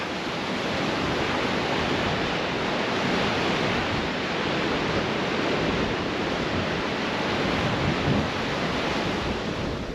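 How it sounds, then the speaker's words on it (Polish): Sea waves break against rocks on the coast at Porto, making a loud, steady roar of surf and spray that continues without pause and has no voices over it. "Zaraz wam pokażę falę, no to jest żywioł dzisiaj jest."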